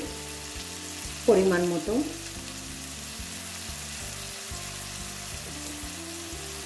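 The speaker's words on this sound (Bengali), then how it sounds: "এখন এগুলিকে আরও 2-3 মিনিট ফ্রাই করব।" Chili paste and turmeric frying in a pan for a pointed gourd dish, a steady close sizzle with a short burst of louder spluttering early on and a brief spoken phrase.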